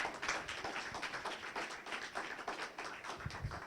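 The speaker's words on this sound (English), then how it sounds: "So if we could all give them a little applause" Audience at a community legislative coffee meeting applauding newly elected legislators, a faint, steady patter of many hands clapping with no talk over it.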